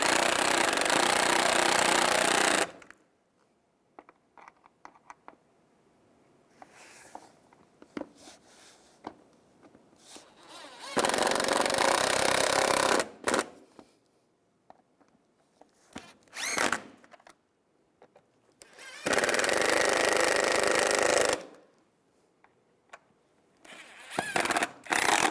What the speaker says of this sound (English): Now tighten the screws down.